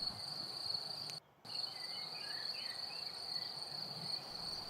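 Hundreds of crickets chirp in a dry-grass meadow where goats graze. The high trill is steady and continuous and drops out briefly once, over faint outdoor ambience.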